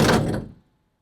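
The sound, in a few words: hopper trailer door being opened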